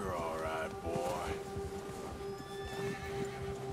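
A horse in Red Dead Redemption 2 lets out a loud rising and falling whinny, with hoof clip-clop and a steady tonal game hum underneath, and a person talks during the clip.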